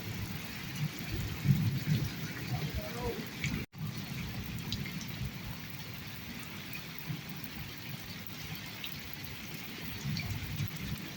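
Heavy rain pouring steadily outdoors during a storm, a dense continuous hiss with faint rumbles beneath, while someone speaks quietly over it.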